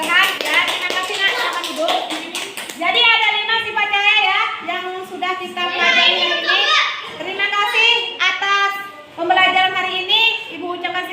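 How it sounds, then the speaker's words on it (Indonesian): Children applauding a classmate in a classroom, a steady patter of many small hands clapping together for several seconds, mixed with young voices and a teacher speaking over it. "Ya, tepuk tangan, Nak, ke temannya."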